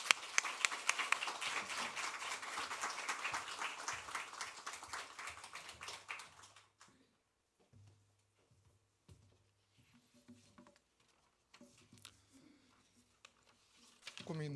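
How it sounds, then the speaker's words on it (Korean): Congregation in a church applauding the pastor at a Sunday service, a dense, loud burst of many hands clapping for about seven seconds, then fading out into quiet room noise with low music or murmurs. "우리 귀한 목사님 나오실 때 여러분 큰 박수로 함께 격려해 주시겠습니다"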